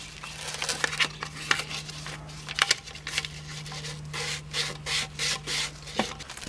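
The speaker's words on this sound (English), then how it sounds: "we'll just hit it real quick with some sandpaper" Sandpaper rubs briskly across pool pump pipe to clear burrs, a close series of rasping strokes in an uneven rhythm that grows more regular toward the end.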